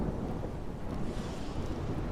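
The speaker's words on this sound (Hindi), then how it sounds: "और तेज आंधी" Strong storm wind sweeps through a rainy jungle in a cartoon, a dense, steady rumbling roar with a blustery texture that stays constant and fairly subdued throughout.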